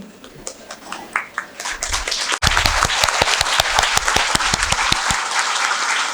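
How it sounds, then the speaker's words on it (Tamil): A standing audience applauds Suresh IAS Academy at a bank achievers meet in Thoothukudi, with dense, loud clapping that swells sharply partway through and continues steadily with a few sharp individual claps standing out. "உங்கள் அனைவரையும் பணிவாக எழுந்து நின்று கரகோஷத்துடன் நமது நன்றியையும் பாராட்டுதல்களையும் இந்த சுரேஷ் அகாடமிக்கு தெரிவிக்குமாறு"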